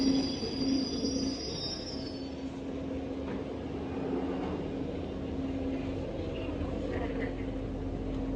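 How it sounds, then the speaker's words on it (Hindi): A London Underground Victoria Line train running through a tunnel, with a steady loud rumble, a sustained wheel squeal, and a continuous roar inside the carriage. "This is a Victoria Line train."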